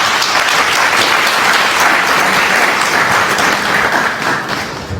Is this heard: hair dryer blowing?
no